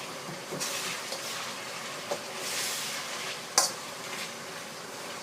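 Pork pieces fry in hot oil in a pan while being stirred, a steady close sizzle broken by occasional clinks and scrapes of the utensil against the pan.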